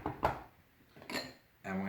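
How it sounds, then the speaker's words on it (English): A kettle handled on a table during a Malaysian Milo taste test, giving a few clanking knocks of metal against a hard surface, close and moderately loud, separated by short pauses. "I have my kettle"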